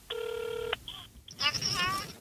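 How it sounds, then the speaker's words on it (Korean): A telephone gives a steady dial tone and then a short electronic beep as a call is placed. A faint voice follows, quiet and muffled as if over a phone line. "당시 조사에 대한 입장을 듣기 위해 가족과 전화 연결을 시도한 제작진."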